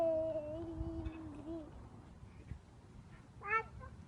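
A voice imitates a cat's meow, a short wavering mew near the start and a brief higher one near the end, set against a quiet outdoor background.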